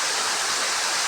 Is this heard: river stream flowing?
yes